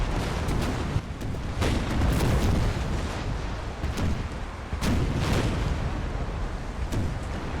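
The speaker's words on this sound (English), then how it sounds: "Yeah, you see the chain shot firing at it." Ship cannons fire chain shot in a large naval battle in Napoleon Total War, booming in repeated heavy blasts about a second apart. The blasts sit over a loud, continuous rumble of distant fire with no talk.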